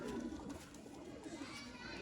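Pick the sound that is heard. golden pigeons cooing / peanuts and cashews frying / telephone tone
golden pigeons cooing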